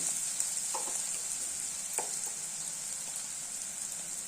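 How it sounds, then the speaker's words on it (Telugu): Onions frying in a pan give off a steady, close sizzle with a few faint stirring scrapes, and no voices. "ఇప్పుడు ఆనియన్స్ బాగా వేగిపోయాయి కదా"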